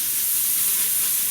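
Propane gas hissing steadily as it escapes, a loud, close, unbroken rush of noise lasting about a second, with no voices.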